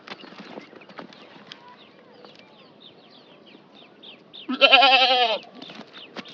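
Goats kept for a small livestock business let out one loud, wavering bleat near the end. Before it, quieter farmyard noise and faint animal sounds carry on in the background.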